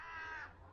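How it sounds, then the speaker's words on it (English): Crows caw outdoors near a cave search site, a short harsh call or two at moderate distance, fairly quiet and alone without talk. "the crows are giving it some"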